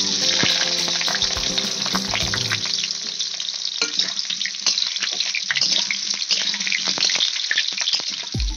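Ingredients frying in a pan to start a biryani: a loud, dense hiss of hot oil with crackles and scraping stirs runs throughout, and nobody speaks.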